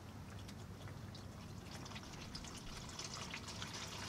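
Engine oil draining from the pan of a 2011–2014 Ford F-150 with the first-generation 5.0 V8 during an oil change, a steady faint trickling, hissing pour that runs without a break, no voices.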